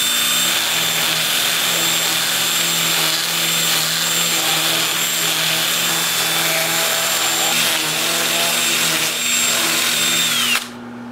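A lathe spins a honeysuckle root while a 2-inch sanding disc on a drill grinds against it, making a loud steady whine and hum that runs continuously before cutting off abruptly near the end.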